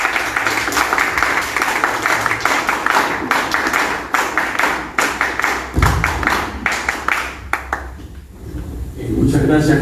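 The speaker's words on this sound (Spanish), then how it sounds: "a nuestro compañero Hugo García Salvatechi, para quien pido también un fuerte aplauso." Audience applause at an anniversary commemoration event, a dense, steady crowd clapping for several seconds that thins out near the end before a speaker begins.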